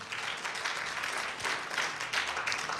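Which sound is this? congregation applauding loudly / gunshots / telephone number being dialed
congregation applauding loudly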